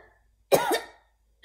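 A reader's voice imitates a girl's cough in a read-aloud story: one harsh, husky cough burst, close and fairly quiet, then the start of another cough a moment later.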